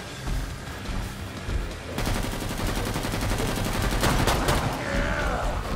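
Rapid automatic gunfire in the zombie shooter game Killing Floor 2 rattles in dense bursts, growing louder and more continuous midway, with game noise underneath.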